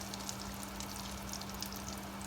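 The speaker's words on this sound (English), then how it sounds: "it's frying a little faster because you're putting the more intense heat on it" Salmon fries in butter in a hot pan over medium-high heat, giving a quiet, steady sizzle with scattered crackles and a low constant hum underneath.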